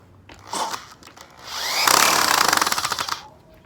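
A power drill drives a screw into wood while building a garden bed, with a short burst followed by a longer, rising whir that ends in a rattling clatter, close and loud.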